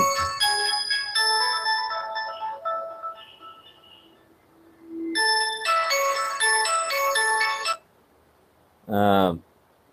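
A mobile phone rings indoors with a bright electronic melody of repeated tonal bursts that stop and restart. A voice briefly follows near the end.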